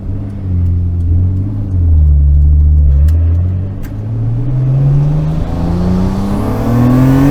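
A Millennium Jade Nissan Skyline R34 GT-R M-Spec Nür pulls hard under acceleration, its engine note climbing steadily in pitch as the revs rise, loud and continuous from inside the car, without talk.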